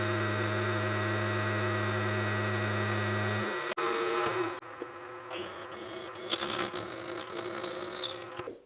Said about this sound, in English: now we'll machine that with a cross hole